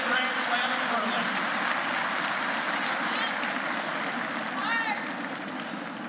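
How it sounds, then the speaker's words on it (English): Arena crowd applause at the ladies' curling final of the KIOTI National, Hasselborg versus Homan, rolls on as a steady wash of clapping while a commentator talks over it. "So let's give them a big round of applause."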